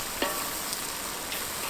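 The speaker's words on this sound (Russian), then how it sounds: "Жарим минут 15 вместе с луком и с морковкой" Lamb pieces fry with onion and carrot in a pot for plov, giving a steady, close hiss of sizzling oil with a couple of faint stirring clicks and no voices.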